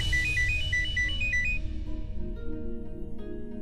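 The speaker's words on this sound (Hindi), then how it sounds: "डॉक्टर का फोन इस वक्त" A phone ringtone plays a quick repeating electronic melody, loud and close, then fades into background music.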